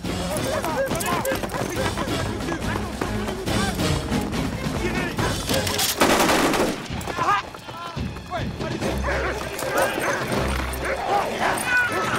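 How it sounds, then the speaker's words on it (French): Dogs barking and yipping during a chase in a French-dubbed Jet Li action film, the barks mixed under shouted dialogue, dramatic music and bursts of gunfire, with a quieter stretch near the end. "Oh, les chiens"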